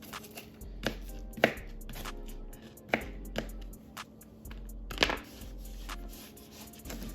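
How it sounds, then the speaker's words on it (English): Knife coarsely chopping an onion on a cutting board for baked spaghetti, a sparse series of distinct thuds at uneven intervals, close and moderately loud, with quiet handling sounds between the cuts. "So you just coarsely chop that up."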